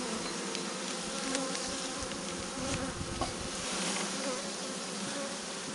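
Honeybees swarm around an open beehive, a dense continuous buzz that is close and loud, with individual bees droning past and no talk.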